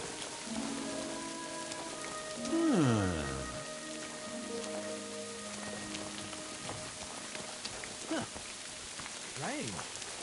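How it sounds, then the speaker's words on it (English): Rain falling in the video game Kingdom Come Deliverance, a steady patter on surfaces beneath a voice and other game sounds. "Rain."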